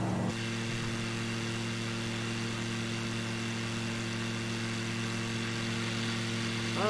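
A small airplane's engine in Microsoft Flight Simulator 2020 runs at a steady, even drone, loud and close, with a strong harmonic hum holding unchanged throughout and no talk.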